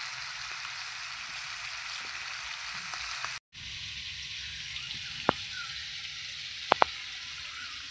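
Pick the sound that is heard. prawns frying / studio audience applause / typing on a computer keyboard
prawns frying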